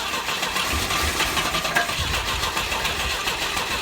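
An old Volvo 122 Amazon that sat for 23 years cranks and catches, a steady rough mid-pitched engine roar close to the microphone with no talk.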